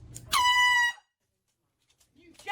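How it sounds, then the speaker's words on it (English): A loud air horn blast goes off in a prank, one sustained blaring tone lasting about half a second, followed by silence and then a burst of shouting. "get straight into it with the air horn pranks"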